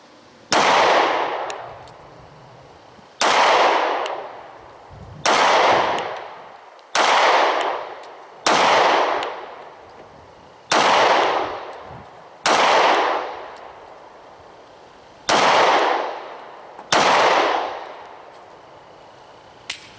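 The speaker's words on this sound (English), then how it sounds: "We're going to keep shooting the flex tip Hornady Critical Duty." Nine 9mm pistol shots with Hornady Critical Duty 135 +P Flexlock rounds fired at 25 yards, each a loud crack followed by a ringing clang off a steel target, spaced about two seconds apart.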